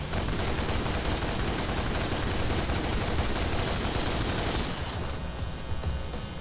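Guns firing at harpies in DmC Devil May Cry, a relentless fusillade of rapid gunshots layered into a continuous loud barrage that thins out slightly near the end.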